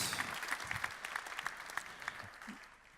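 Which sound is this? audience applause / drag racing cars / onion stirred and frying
audience applause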